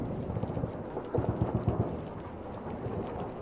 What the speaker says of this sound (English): rain finally began, slow, cooling, washing blood to rust in the dirt